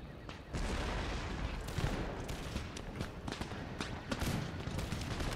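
Cannons fire in the Empire Total War video game during a battle against mortar crews, a dense, continuous roar of booms and crackling gunfire layered over one another with no pauses.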